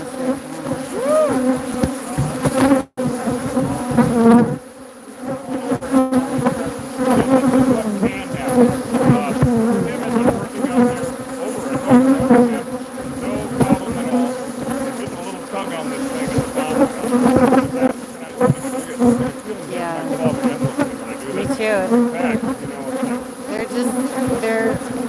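Angry, aggressively defensive bees pouring out of a partly removed hive, a dense, continuous loud buzzing swarm close around the microphone throughout.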